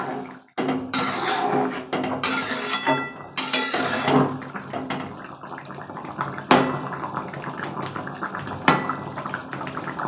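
Elephant foot yam boils in a covered pot: a steady, close watery bubbling hiss with a few sharp metallic clinks from the lid and pot.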